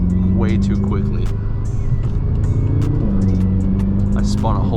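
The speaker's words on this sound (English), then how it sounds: "I hit the gas a little too hard for it to be in the rain" A BMW M6 accelerates hard on a rainy road, wheels spinning; a loud engine drone rises and holds beneath a voice talking over it.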